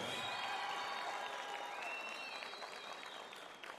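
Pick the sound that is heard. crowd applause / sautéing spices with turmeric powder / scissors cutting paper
crowd applause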